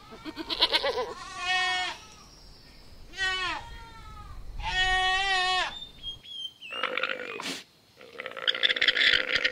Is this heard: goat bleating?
yes